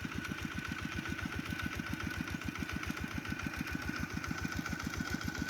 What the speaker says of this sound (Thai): เอารถไถกบเด้อค่ะ